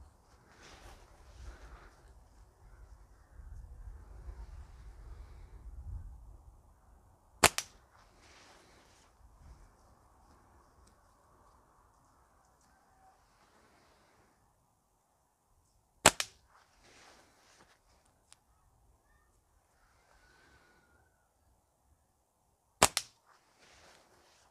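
A homemade slingshot cut from natural wood fires three sharp, snapping shots, widely spaced and close, over a quiet background with some faint rustling and handling noise early on.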